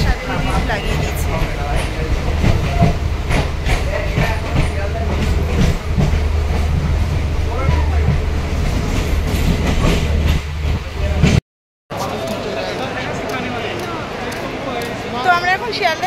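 A local train pulls into Sealdah station in Kolkata, its steady low rumble and rail clatter running loud and continuous with a short break partway through; people talk over the noise.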